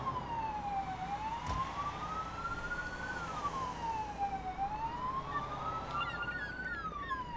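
A police car siren wails steadily in the Police Simulator video game, its tone sweeping slowly up and down in a continuous cycle over a constant engine and road rumble.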